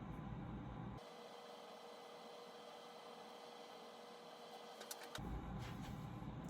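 A sublimation printer runs with a steady mechanical whir and hiss, its tone shifting as the feed starts and stops, close by with no voices.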